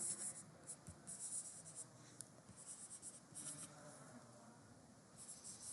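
A pen scratches across paper in short, quiet strokes while an arithmetic progression problem is worked out by hand, with light rhythmic scribbling throughout.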